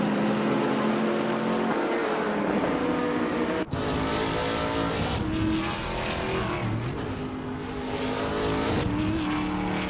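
Race cars including a Norma M30 roar past at speed, engines droning loudly and continuously with overlapping passes and shifting pitch, no voices.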